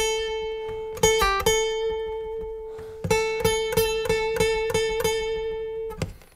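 Guitar picking the last two bars of the solo from a song: a short phrase of clear plucked notes, a quick cluster then a pause, followed by a steady run of single notes ending on a sustained ring.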